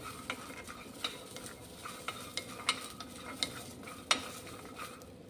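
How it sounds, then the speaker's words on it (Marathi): Peas dry-roasting in a pan without oil for a Sankranti bhogi vegetable dish, with faint rattling and scraping as they are stirred, and a handful of sharper clicks from the spoon against the pan, no voices. "तर आता हे सुद्धा आपल्याला तेल न घालता छान असे भाजून घ्यायचे आहेत"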